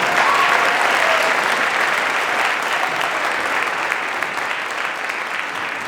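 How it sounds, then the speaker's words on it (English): An audience at a high school honor choir concert applauds a choir conductor, a dense, steady wash of clapping that stays loud throughout and fades only slightly toward the end. "give him a round of applause."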